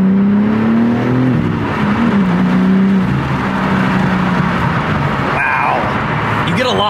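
BMW M4 fitted with an M Performance exhaust pulls hard, with a loud, close engine note that climbs and drops through shifts under steady road noise, and a brief higher squeal near the end.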